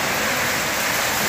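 Rain falls steadily in a brief, continuous wash of hiss, loud and unbroken with no voices over it.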